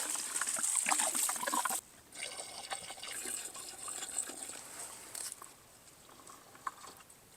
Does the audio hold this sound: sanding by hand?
no